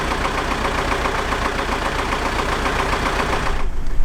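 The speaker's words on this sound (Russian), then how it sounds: "Вот на этом замечательном аппарате, 131-м ZIL с двигателем." A ZIL-131 truck fitted with a D245 diesel engine runs at a steady, loud, close idle, a dense, even rumble with a rapid knocking rhythm throughout, used on rough forest roads.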